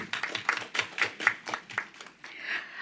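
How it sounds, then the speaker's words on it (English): Scattered clapping from a city council meeting audience, a handful of quick separate claps that come fairly close, moderately loud, then a brief murmur of voices as it dies away. "that deserves a round of applause"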